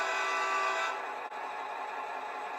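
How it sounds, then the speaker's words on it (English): A locomotive horn in a train simulator video game sounds as one sustained, loud, multi-tone blast, fading slightly partway through and continuing steadily to the end. "Let's blow the horn though."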